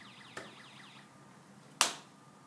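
Two sharp taps on a sound-sensor circuit board from an electronics project kit, one light and one louder, spaced about a second and a half apart over a faint electronic warble and a thin steady tone.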